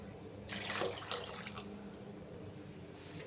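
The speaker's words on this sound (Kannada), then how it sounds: "ಇನ್ನೊಂದು ಸ್ವಲ್ಪ ನೀರು ಹಾಕೋತೀನಿ" Water pours into vegetable sambar in a pressure cooker, a short splashing burst lasting about a second, then settling into a faint trickle and quiet kitchen background.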